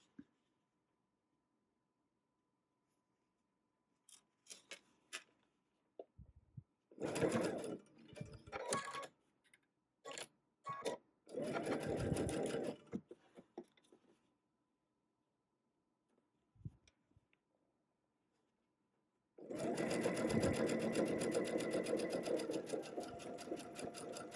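A sewing machine stitches a Tula Pink butterfly quilt block in short, close bursts of whirring separated by handling noises and silent gaps, then runs in a longer steady stretch at the end.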